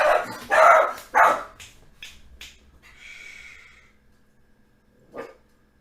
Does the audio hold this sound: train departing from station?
no